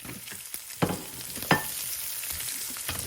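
Chopped garlic frying in a pan for an onion and gram flour sabji: a steady low sizzle with a couple of sharp clinks and stirring knocks, close by, with no voices.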